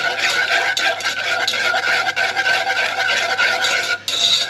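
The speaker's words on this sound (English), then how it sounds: "Whisking in the jar, oh yeah." A mixture whisked briskly inside a jar for lasagna, a loud continuous close-up scraping and rasping of the whisk against the glass, fast and unbroken apart from a brief pause near the end.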